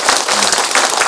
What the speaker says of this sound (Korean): 여러분 격려의 박수 한번 더 해주세요.